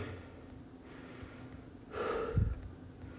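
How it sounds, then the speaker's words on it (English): Heavy breathing after a round of an abs workout: a faint room hum, then a loud gasping inhale and a forceful snorting exhale near the end, close and unaccompanied by talk. "I'm breathing hard now."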